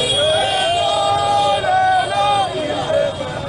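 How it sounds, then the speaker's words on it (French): An angry protest crowd outside the MONUSCO headquarters and embassies in Kinshasa shouts and chants, a dense, loud mass of raised voices that rises and falls without pause. "foule de gens en colère devant le siège de la MONUSCO et certaines ambassades, cris et chants hostiles"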